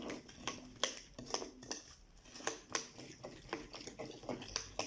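A facial detox mixture stirred in a bowl, with irregular clinks and taps of a utensil against the sides mixed with soft scraping, quiet and close, repeating in quick uneven bursts with no talking.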